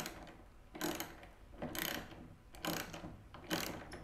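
Socket wrench with a long socket ratcheting as wheels are bolted onto a rolling cabinet base: four separate bursts of rapid clicking, close and clear, with quiet pauses between and no talk.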